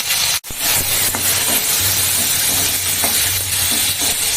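Flat beans, tomato and green chilli fry in hot oil with turmeric and salt, giving a loud, dense, close sizzle that breaks off abruptly for a moment near the start and then continues steadily under a low hum.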